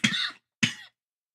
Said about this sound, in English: My bad for the coughing.